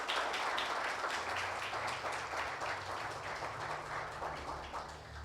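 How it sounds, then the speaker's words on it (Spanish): A church congregation applauds during a sermon, with a steady, dense wash of many hands clapping together that carries on throughout and fades slightly toward the end. "Aplauda a Dios."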